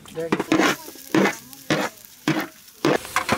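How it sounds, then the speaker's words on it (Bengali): Rice sizzles in a hot pot while a utensil scrapes through it in regular stirring strokes, about one every half second. "হ্যাঁ চালটা ভাজা হয়ে গেছে"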